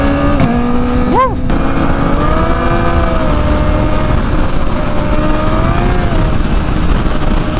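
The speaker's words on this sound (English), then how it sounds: "And with this full Graves exhaust, ooh, it sounds so butter." A Kawasaki Ninja ZX-4RR fitted with a full Graves titanium exhaust revs and shifts, its engine pitch rising and falling steadily with a sharp blip near the start, loud and close, with a voice talking over it.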